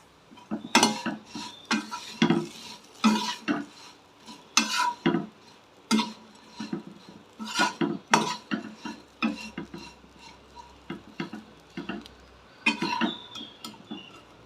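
Raw plantain pieces stirred in plenty of oil in a pan for a Tamil plantain fry, heard as a string of close, irregular spatula scrapes and clinks against the pan over a faint sizzle.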